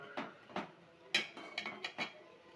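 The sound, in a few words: chicken being stir-fried (kosha) in a pan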